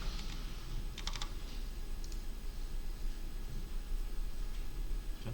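Keys clatter on a computer keyboard in a few quick bursts of clicks spread over several seconds, close and fairly clear against a steady background hiss.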